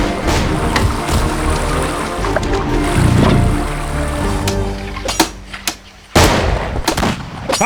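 Gunfire in the video game Battle Realms II during a 3v3 online battle, a loud, dense run of shots and booming blasts layered over game noise, then several sharp separate bursts near the end.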